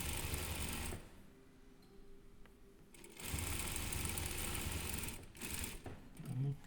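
A sewing machine stitches a quarter-inch seam on a fabric surgical mask cover in two loud, steady whirring runs with a quieter pause between them.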